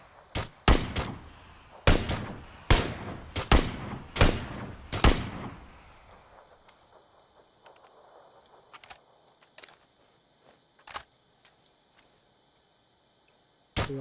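Video game gunfire in a battle-royale style match: a rapid cluster of sharp, loud shots over the first five seconds, then scattered isolated pops at a distance, ending with one more close shot.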